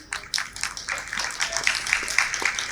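An audience at a children's Bhagavad Gita shloka antakshari event at a Balavihar camp claps in a steady round of applause, a bright crackling patter that swells after a few initial claps and continues without talk.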